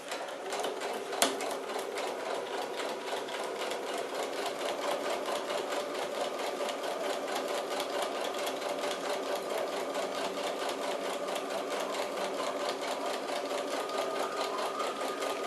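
A sewing machine stitches fabric slowly and steadily, a continuous close mechanical whir with fine rapid ticking running unbroken throughout.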